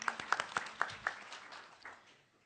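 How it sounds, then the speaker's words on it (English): Scattered clapping from a small audience at a panel talk on fake news and misinformation: a handful of distinct, fairly sharp claps at first, thinning out and fading to quiet within a couple of seconds. "Oh, more clapping."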